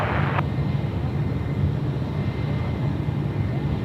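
A Qatar Airways jet rolls for takeoff on runway 34 left at Sydney Airport, a loud, steady, rumbling engine roar with broad hiss that holds throughout.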